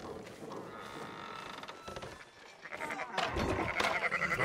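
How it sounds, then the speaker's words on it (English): Sheep bleating on a farm in the game Red Dead Redemption 2, a few nasal bleats over background rustle and ambient noise, rising louder toward the end, with faint talk in the mix. "Fine sheep."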